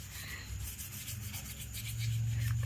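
Steady scraping rub of a phone back cover being scrubbed clean with Colgate toothpaste, continuous and close, growing slightly louder toward the end, with no talk.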